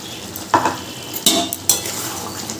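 A pot of desi chicken curry being stirred, with three distinct scraping strokes of a spoon against the pot over a steady background sizzle, close up and with no talking.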